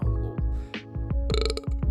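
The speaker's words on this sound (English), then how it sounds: "Sorry, I had to burp." A single short, throaty burp from a person nearby, heard on its own with no talk.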